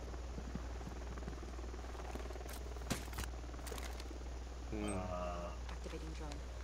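A steady mechanical whir from a drone in Rainbow Six Siege, a constant low drone underneath with scattered clicks and game sounds on top, with a voice talking over it.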